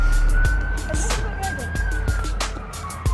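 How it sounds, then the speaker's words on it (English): A police car siren wails steadily near the railway viaduct in Chelmsford, holding one sustained tone for about three seconds over a busy background of traffic and repeated sharp knocks. "There's always sirens in Chelmsford."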